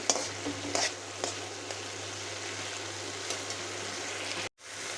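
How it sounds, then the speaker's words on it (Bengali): Drumstick flowers with turmeric sizzle gently in a pan as a spoon stirs and scrapes in a few light strokes, close and steady, before the sound cuts off abruptly near the end, no talking. "আমি ধুয়ে বেছে রাখা ফুলগুলো দিয়ে নিচ্ছি সব কিছুকে নাড়িয়ে চাড়িয়ে মিশিয়ে নিচ্ছি"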